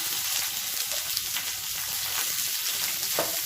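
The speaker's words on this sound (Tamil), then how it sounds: "வெங்காயம் நல்லா வதங்கணும்" Onions sauté in hot oil for an egg curry, giving a steady close sizzle and crackle that holds evenly throughout with no talking.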